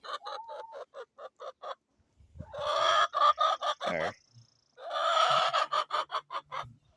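Chickens cluck in quick bursts of short, rhythmic calls, a fairly close flock chattering with brief pauses between runs.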